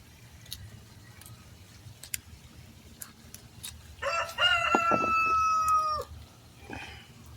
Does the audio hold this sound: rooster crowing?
yes